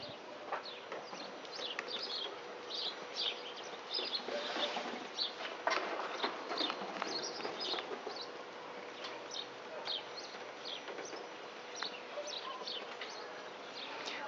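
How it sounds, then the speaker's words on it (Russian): Birds chirp and twitter outside a window on a clear, sunny, frosty morning, many quick, fairly faint calls overlapping steadily in a quiet outdoor setting. "Специально пришла в окошко, чтобы вы послушали, как щебечут у нас птички."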